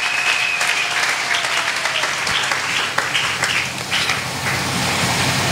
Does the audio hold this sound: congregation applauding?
yes